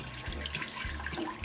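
Water poured onto a trivet in the bottom of a pressure cooker, a steady close splashing and trickling that runs continuously for the whole stretch with no talk.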